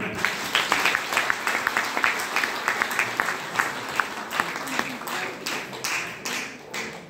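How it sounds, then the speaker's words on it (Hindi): A large audience claps enthusiastically at a DXN company event in India, a dense, steady wave of many hands lasting several seconds, with faint voices mixed in. "बार जबरदस्त ताली होती"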